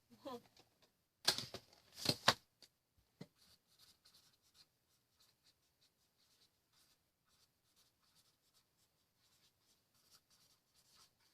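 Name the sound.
writing something down by hand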